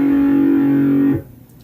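An electric guitar runs through an 80s-style metal effects pedal, a single sustained, thick note droning steadily before being muted sharply.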